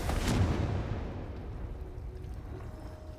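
Confringo fire spell in the Hogwarts Legacy video game, a single fiery blast with a sharp crack and deep boom that rolls off into a fading rumble.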